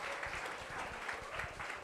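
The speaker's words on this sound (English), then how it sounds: "Give a big round of applause" A conference audience applauds a guest presenter, steady dense clapping at moderate distance throughout, fairly quiet in the room.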